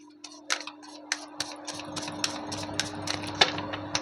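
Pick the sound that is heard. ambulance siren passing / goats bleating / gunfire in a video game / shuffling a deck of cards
shuffling a deck of cards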